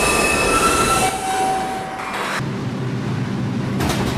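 An R142 subway train runs into the Kennedy Main Street terminal, its wheels squealing in high, wavering tones over a rumbling roll. The squeal fades after a couple of seconds and briefly returns at the end.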